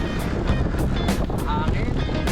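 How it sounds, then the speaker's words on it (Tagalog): Strong wind ahead of an approaching typhoon buffets the microphone outdoors in open country with loud, continuous low rumbling and gusting bursts, while a voice is faintly heard underneath. "napakalakas ng hangin"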